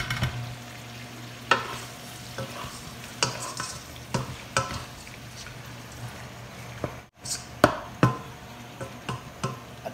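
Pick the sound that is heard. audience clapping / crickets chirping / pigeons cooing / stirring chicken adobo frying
stirring chicken adobo frying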